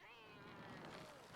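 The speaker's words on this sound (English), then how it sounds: "The cat noises, kind of weird." A cat meows in the video game Trials, a brief rising-then-falling wail, fairly faint, over a noisy in-game background.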